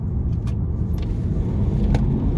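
A stage 1 tuned BMW E60 535d diesel rumbles steadily from inside while driving, a low, continuous engine and road drone with faint small rattles and no talk.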